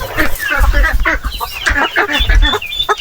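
A hen clucks and cackles repeatedly at close range while laying an egg in a rural yard, with busy, rhythmic calls and people talking nearby.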